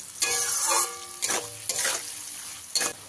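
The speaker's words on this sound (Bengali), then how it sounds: "পেঁয়াজগুলোকে এখানে খুব ভালো করে লাল লাল করে ভেজে নিতে হবে।" Onions fry over a medium gas flame toward reddish brown, a close sizzle broken by a few distinct scraping stir strokes about once a second.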